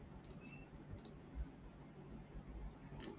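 A computer mouse clicks a few times, with single faint, sharp clicks spaced well apart against a quiet room hiss.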